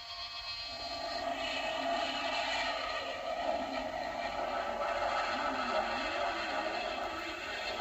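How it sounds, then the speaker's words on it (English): An aircraft taking off in a televised show, heard as a steady, moderately faint engine roar and whine that holds throughout without talk. "Clear for takeoff, Charlie?"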